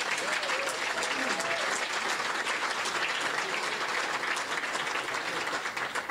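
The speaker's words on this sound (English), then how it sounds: "That deserves a round of applause" An audience claps steadily, a dense wash of applause that carries on for several seconds without any voices on top.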